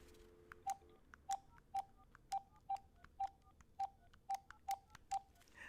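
Telephone keypad dialing to call a friend: about ten crisp touch-tone beeps in an uneven rhythm, close and clear over a faint background hum, with no voices.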